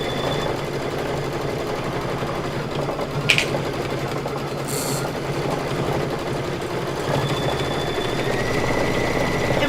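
An embroidery sewing machine stitches out a design for a patriotic pillow, a steady rapid mechanical whir with even needle rhythm, close and continuous, with one brief clack partway through.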